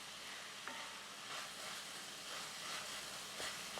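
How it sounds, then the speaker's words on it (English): Beef empanada filling with peas and carrots simmering in a pan, giving a soft, steady sizzle and hiss with a few faint scrapes of a spoon stirring, quiet and close. "All right, let's give this a stir."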